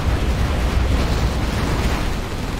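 A heavy, roaring blast from a particle cannon superweapon in the game Command & Conquer Generals Zero Hour, a dense, rumbling eruption that holds loud and steady for nearly three seconds before easing slightly.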